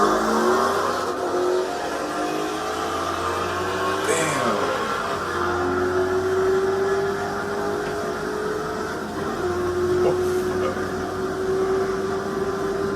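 Corvette C7 Z06 pulling hard from a 60 mph roll in third gear, a loud steady engine drone climbing in pitch through the run with wind and road roar, and a voice speaking over it.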